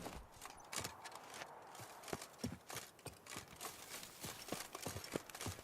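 Roach the horse from The Witcher 3 walks steadily, hooves clip-clopping in an even, close rhythm of sharp knocks over a low ambient background.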